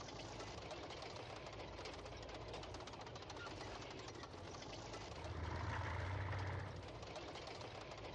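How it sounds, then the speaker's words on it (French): A tank engine runs in the Real Warfare strategy game, a low, steady mechanical rumble that swells louder for a moment near the end, with no speech over it. "Moteur en marche."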